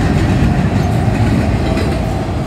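A Union Pacific manifest freight train rolls past at Cooper Road, a loud, steady rumble of cars and wheels with a faint clickety-clack, filling the whole stretch without any talking.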